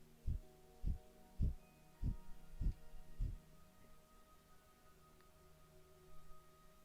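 Six rapid, forceful Kapalabhati breath-of-fire exhale pumps thump out in a quick even rhythm, close and soft, over a steady low hum, then fade into quiet stillness.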